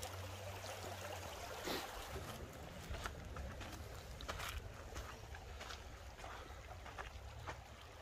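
Water runs steadily through small irrigation channels in cold, rural Kashmir, a constant close wash with a few brief louder splashes and no voices.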